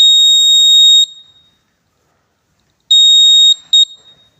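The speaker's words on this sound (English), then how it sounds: "the full and buzzer is activated" Water level warning buzzer in an urban waterlogging detection system sounds two loud, steady high-pitched tones, a one-second blast, a pause, then a longer tone followed by a short extra beep, with no other sounds.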